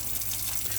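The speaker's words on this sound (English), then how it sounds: "once you have water running out of every tap continuously on board the caravan" Water runs continuously from a caravan tap as the onboard water system fills, a steady hissing splash at moderate level with a faint low hum beneath.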